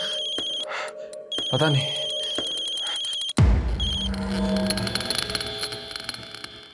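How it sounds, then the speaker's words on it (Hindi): Phone ringing indoors, a repeated electronic ring tone under brief talk, followed by a sudden loud dramatic sound burst and music. "किसका फोन है वरुण?"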